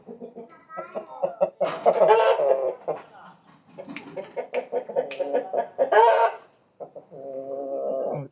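A rooster and country chickens on a farm cluck and squawk close by in a busy, uneven run of calls, with brief pauses near the end.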